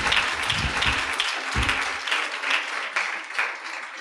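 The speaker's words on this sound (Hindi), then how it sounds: "अपने आप को तालियां बजाओ।" Applause from the audience at a Hindi-language church faith conference, a moderate, continuous patter of clapping with a few low thumps early on and no speech over it.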